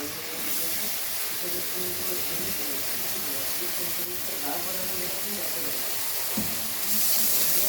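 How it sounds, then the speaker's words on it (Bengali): Chopped vegetables fry in butter in a wok, giving a quiet, steady sizzle and hiss that runs throughout, with a voice talking over it. "এই বাটারের মধ্যেই ওই যে চপ করা সবজিগুলো কিছুটা ফ্রাইড রাইসে দিয়েছিলাম ওটা এখন এই কিছুটা চাউমিনে দিয়েছিলাম কিছুটা এবার আমি এর মধ্যে দিয়ে দিচ্ছি কড়ার মধ্যে"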